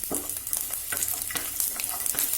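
About fifteen garlic cloves fry in a pan with a close, steady sizzle. Repeated scraping strokes of stirring give it a loose, uneven rhythm, with no voices present.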